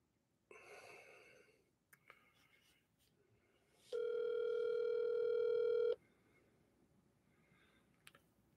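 A telephone call goes unanswered: a short burst of dialing tones is followed by a steady, loud ringback tone lasting about two seconds, with faint breathing and small handling noises around it.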